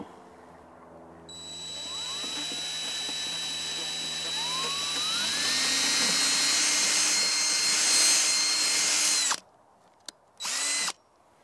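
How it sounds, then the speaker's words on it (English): A power drill with a masonry bit whines steadily for several seconds, pitch rising as it bores drain holes, then cuts off, followed by two short bursts. "We're going to use a drill with a mason bit here."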